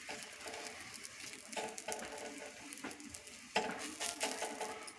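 A chapati cooks with oil on a hot pan, giving a soft, close sizzle with small crackles and light scraping taps that come and go in uneven bursts.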